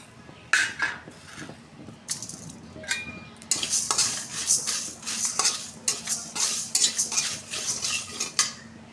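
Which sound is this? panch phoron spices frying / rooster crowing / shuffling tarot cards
panch phoron spices frying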